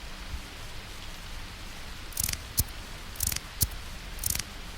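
Steady rain hisses at night by a deserted bus stop in the Dandeli forest, a continuous soft wash broken by a few louder, sharper splashes and drips.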